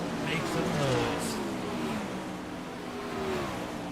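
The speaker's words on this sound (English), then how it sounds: "we got about 2 minutes left to the warm-up here as these guys run around the track" 410 sprint cars circle the dirt oval at Knoxville Raceway during warm-up laps, a steady mid-distance engine drone with rising and falling revs running the whole time beneath crowd and announcer chatter.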